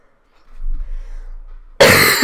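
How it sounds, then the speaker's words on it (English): One big, loud cough bursts in abruptly at the end, harsh and close, after a stretch of near silence with a faint low rumble. "That was a big cough."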